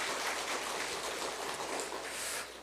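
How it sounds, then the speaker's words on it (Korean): A church congregation at a Palm Sunday service applauds to welcome a new member: steady, soft, even clapping that carries on without a break and no voices on top. "박수로 환영해 주시기 바랍니다."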